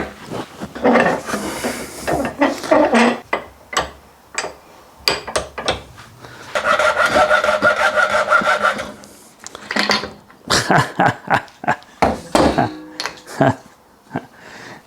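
Hand sawing through a concealed cistern flush pipe held in a vise, with rasping strokes in bursts amid clattering handling noises and a longer steady run of cutting midway.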